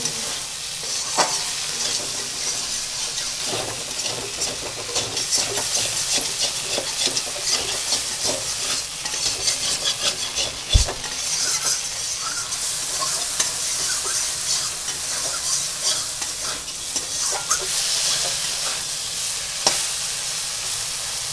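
Shrimp frying in a pan for a spicy jackfruit-and-prawn curry, a steady close sizzle running throughout with occasional stirring scrapes and one sharp knock near the middle.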